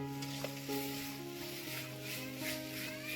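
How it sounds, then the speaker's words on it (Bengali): Dried chili paste and spices fry in a wok for a rural-style duck and new potato curry, giving a steady, fairly quiet sizzle throughout with a faint continuous tonal hum behind it. "এবারে আমি ভালোভাবে মশলাটা কষিয়ে নেব যতক্ষণ না মশলা থেকে তেল বেরিয়ে আসছে"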